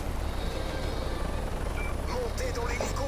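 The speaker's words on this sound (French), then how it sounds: "Montez dans l'hélico et fichez le camp." A helicopter in the Call of Duty: Modern Warfare 3 video game churns as a steady rotor drone within dense, noisy battle sound, with voices talking over it throughout.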